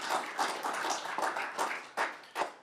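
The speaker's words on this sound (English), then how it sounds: "Can we give them a round of applause?" Scattered applause from a small crowd at a municipal council meeting, a spread of hand claps with a few louder distinct claps near the end and no talking.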